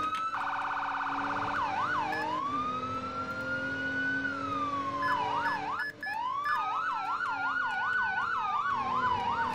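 A police car siren in the Roblox video game wails and yelps loud and steady, switching between rapid warbling cycles and long rising tones, with no talking.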